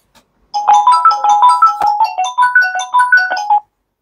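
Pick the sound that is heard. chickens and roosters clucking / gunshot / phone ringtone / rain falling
phone ringtone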